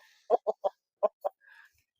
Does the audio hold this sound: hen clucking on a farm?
yes